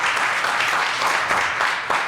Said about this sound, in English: First, a big round of applause for our peer helpers who really organized this whole thing.